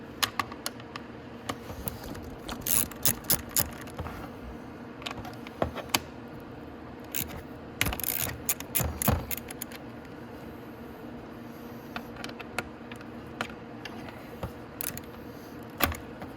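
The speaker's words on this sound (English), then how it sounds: "So you're just going to need a 10 mil to take those off." A 10 mm wrench loosens the speedometer nuts on a Venom X18 automatic motorcycle, giving sparse metallic clicks and ratchety taps in short clusters over a low steady background hum.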